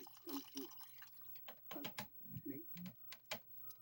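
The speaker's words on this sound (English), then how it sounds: "So I'm going to dip it in some water, warm water." A soft velvety washcloth dipped into warm water gives close, quiet splashes and drips in a few short bursts, with small wet sloshes in between.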